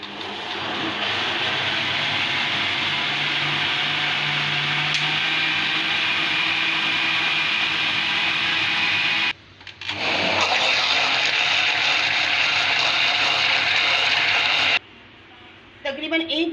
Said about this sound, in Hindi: उसको अब अच्छी तरीके से ब्लेंड करेंगे